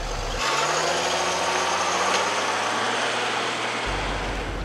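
A Mercedes G350 AMG G-Class idles with a steady low engine drone just after being shifted into drive, close and continuous with no talking over it.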